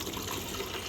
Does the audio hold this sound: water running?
yes